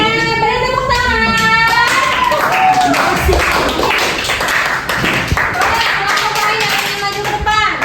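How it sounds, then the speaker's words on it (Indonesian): An eighth-grade class of students claps in a classroom, a dense burst of hand claps under a teacher's and children's voices. "Oke, beri tepuk tangan."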